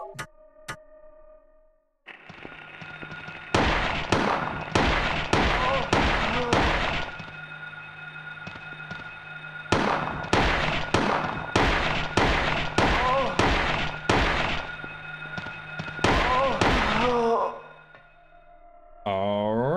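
Handgun fire in Silent Hill: rapid, evenly spaced sharp shots in three long volleys separated by pauses, loud and close over a low humming drone, with a brief electronic tone at the end.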